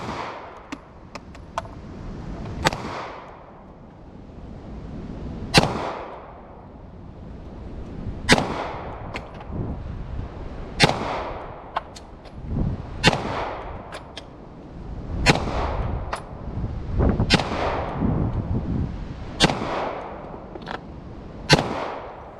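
A Smith & Wesson 686 firing at targets on an outdoor range, sharp loud shots spaced every couple of seconds, each followed by a trailing echo, with softer distant shots in between.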